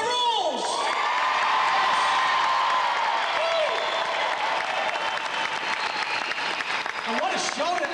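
A large audience at the Wallace and Ladmo 50th anniversary stage show claps and cheers with whoops and children's shouts in a continuous loud wash, with an amplified voice speaking over it.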